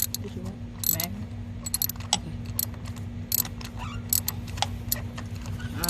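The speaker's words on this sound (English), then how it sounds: "I'm unscrewing the spark plug." A ratchet wrench loosens a spark plug on a truck, giving bursts of sharp metallic clicks over a steady low engine-bay hum.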